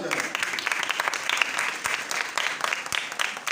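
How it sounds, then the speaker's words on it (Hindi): A church congregation at a Pakistani service claps loudly in praise, with crisp, dense applause full of individual hand claps that runs on without pause while voices call out over it. "यीशु की जलाल के लिए जोरदार तालियां हो जाए"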